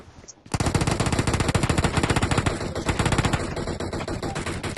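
Rapid, continuous automatic gunfire from a video game runs almost unbroken after a brief quiet start, loud and close, with dense overlapping bursts and no clear speech.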